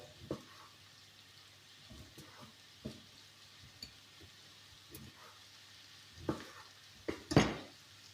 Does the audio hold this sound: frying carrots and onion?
yes